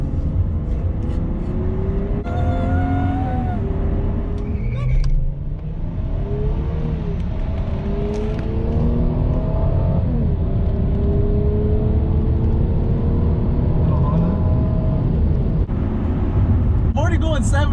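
A 1998 Lexus GS300 straight-six accelerating hard, with rising engine tones climbing through several gear changes, loud and steady from inside the car, with a brief exclamation from a voice mid-pull.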